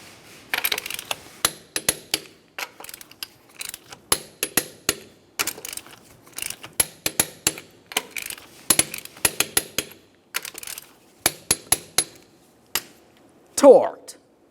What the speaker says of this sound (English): let's torque these to 76 in a crisscross manner